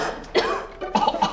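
A person coughs in a few short, harsh bursts, close and clear, with a brief pause between them and no talking.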